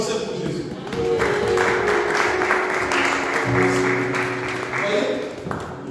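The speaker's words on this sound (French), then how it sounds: "Applaudissez pour Jésus." A church congregation applauding, broad sustained clapping from many hands with a held organ or keyboard tone and voices mixed underneath, loud and continuous throughout.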